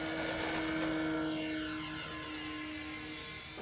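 RC airplane taking off at about 40% throttle, a thin buzzing propeller engine with a steady tone that fades slowly as the plane pulls away, faint and without speech.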